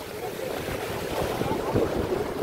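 Loud wash of sea water around a boat with wind noise, swelling as a bigger wave breaks near the end.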